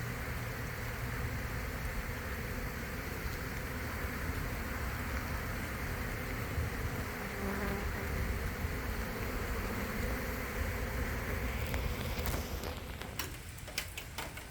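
A dense, steady buzz of many honeybees under a shed floor fills the air, close and continuous, with some clicking and rustling toward the end.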